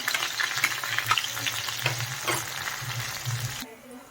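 Onion, curry leaves and green chillies frying in a pan for a khar vanga (brinjal) dish, with a bright crackling sizzle and a few stirring scrapes, close and lively, then a sudden cut to quiet near the end, no talking.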